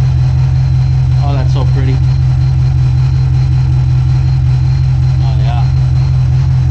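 Engine of a 2007-13 Sierra pickup with a Mechman 400 amp alternator, idling in a steady low drone, close by, while people talk briefly over it.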